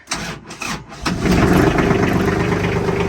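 A mini tractor's diesel engine, cranked on a partly discharged battery, turns over in a few labored bursts, then catches and settles into a loud, steady, close-up idle.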